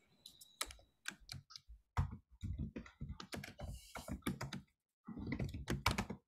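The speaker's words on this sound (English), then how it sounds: "while I'm typing" Typing on a computer keyboard during an online meeting, a fairly close string of quick clacking keystrokes in bursts with short pauses between them and a longer gap near the end.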